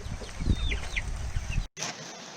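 Chickens in a homestead coop cluck softly at close range, a few short rising calls over scratchy shuffling, cut by a brief silent gap before background noise resumes.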